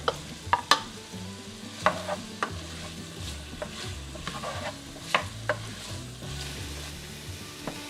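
Cooked chicken stirred into a pot, with a spoon scraping and knocking against the sides over a soft, steady sizzle, close and fairly quiet with no talk.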